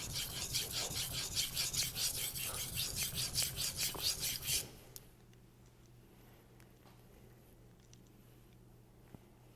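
A Shirogami steel knife is stroked back and forth on a natural Japanese whetstone in about a dozen quick rhythmic rasping passes, then stops, leaving near silence with a few faint ticks.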